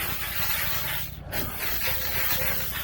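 Aerosol spray paint hisses in a steady, close broadband stream, pausing briefly for about a quarter second midway before resuming until the end.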